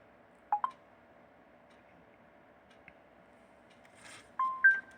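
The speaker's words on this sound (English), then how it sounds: "I hate that boot sound." A short LG G4 phone startup chime: a few brief electronic tones at the start and end over a faint hum, quiet and close.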